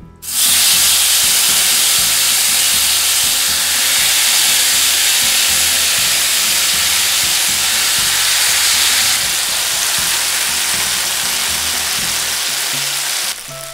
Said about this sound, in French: Placez la plaque qui est très chaude sur la planche. Déposez le bœuf sauté sur la plaque.